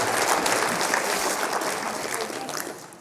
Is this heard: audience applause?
yes